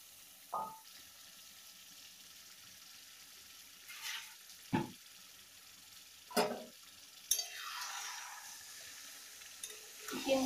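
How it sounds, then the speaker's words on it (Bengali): Marinated chicken pieces sizzling in a pan while being stirred, with a few sharp scraping strokes of the spoon standing out over a faint, steady frying hiss. "চিকেনগুলোকে দিয়ে আমি আরেকটু নাড়াচাড়া করে নিই"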